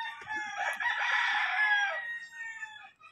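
A fighting rooster being shipped as part of a load of gamecocks crows once, a loud, close crow lasting about two seconds with a rough, harmonic-rich tone, then trailing off.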